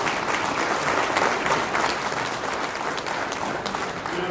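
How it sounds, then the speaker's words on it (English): An audience at a real-estate panel event gives a round of applause, a dense, even burst of clapping lasting a few seconds with no talking. "give these guys a round of applause."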